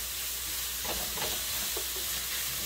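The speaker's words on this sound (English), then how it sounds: "saute all that beef up" Ground beef sautéing in a pan for burrito filling gives a loud, continuous sizzle with a few scraping stirs in the middle, close up and without talk.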